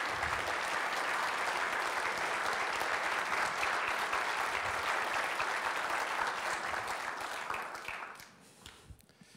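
A conference audience applauds to welcome a speaker to the platform: sustained, dense clapping from a large crowd that holds steady for several seconds, then thins out and fades to scattered claps.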